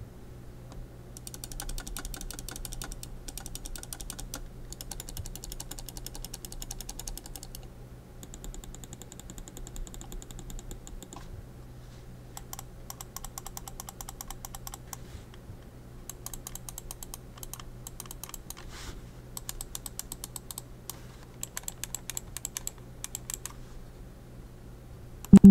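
Button clicks on an EVGA gaming mouse, including the wheel button, close and crisp, coming in quick runs of rapid clicking with short pauses between groups, no talking.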